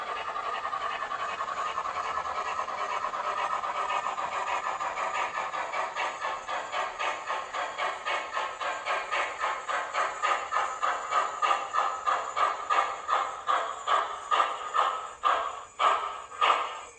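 Model steam locomotive sound from an MTH HO scale Southern Pacific GS-4 #4449: steady hissing steam that gradually breaks into rhythmic chuffs, which grow louder and slower toward the end, with no talking.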